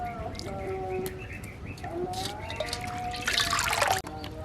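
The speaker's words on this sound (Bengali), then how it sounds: "ঠান্ডা জল দিয়ে ঠান্ডা করে নেওয়ার পরে জলটা আবার ভালো করে চেপে নিংড়িয়ে নিচ্ছি" Cooked ash gourd pieces, cooled in cold water, are squeezed by hand so water trickles and dribbles out, with birds chirping in the background.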